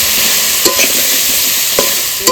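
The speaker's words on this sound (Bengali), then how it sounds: "মশলাটা একটু কষে নিয়েছি, এবার আলুটা দিয়ে দেবো ভেজে রাখা।" Potatoes frying in a spice paste of cumin powder, Kashmiri chili powder and a little sugar, loud close sizzling with a few scraping spoon strokes as they are stirred.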